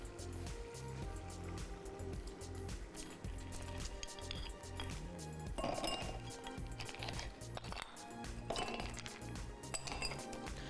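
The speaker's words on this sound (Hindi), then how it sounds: "आइस क्यूब डालेंगे।" Ice cubes drop and clink into glasses for a chilled summer drink, giving quiet, scattered knocks and rattles of ice against glass, faint and close, with no voices.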